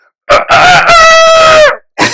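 A man imitates a rooster's cock-a-doodle-doo with his voice, recreating a childhood call from atop a farm water tank. It comes as a loud, close, strained crow with a short lead-in and a long sustained final note.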